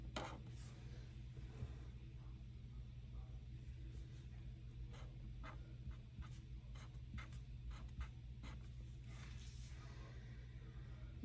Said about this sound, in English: So I'm just gonna write that out.